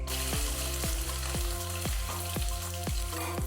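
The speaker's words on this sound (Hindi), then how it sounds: "फिर आप प्याज डालना और उनको भी आप इस गरम तेल में थोड़ा पकने देना" Onions and garlic frying in hot oil in a cooker, a steady dense sizzle with regular scraping strokes of a spatula about twice a second.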